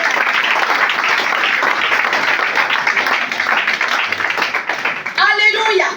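A church congregation applauding, sustained dense clapping from many hands filling the room, with a voice rising over it near the end.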